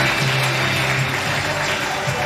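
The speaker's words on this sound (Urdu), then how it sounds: "تالیاں لگنی چاہیے." An audience claps at a school annual prize distribution ceremony, a short burst of steady, fairly loud applause from a crowd with faint voices mixed in.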